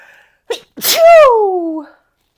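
A single loud sneeze close by: a sharp intake, then an explosive burst trailing into a voiced, falling tail, alone in the quiet.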